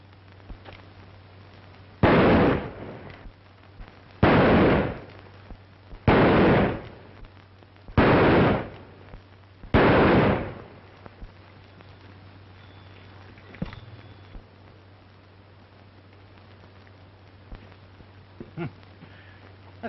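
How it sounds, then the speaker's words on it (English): Five loud, evenly spaced gunshots ring out in a target shooting contest from a 1939 classic western film, each with a long booming tail, followed by quieter room noise. "That's pretty good shooting."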